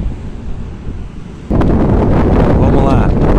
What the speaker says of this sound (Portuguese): Vento aqui é beleza, hein?